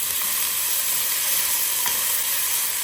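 Onions sizzle steadily in a pan as they fry for a beef minestrone soup, a constant bright hiss with a few faint clicks of stirring and no talking.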